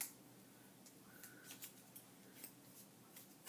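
Scissors cutting scrapbook paper in half along a halfway line, a run of short, crisp snips at close range with no one talking.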